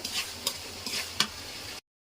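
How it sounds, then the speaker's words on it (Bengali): Prawns and onions frying in a pan, a close sizzle broken by several sharp stirring scrapes spaced about every third of a second, then a sudden cut to silence. "চিংড়ি মাছ আর পেঁয়াজগুলো ভাজা হয়ে গেছে"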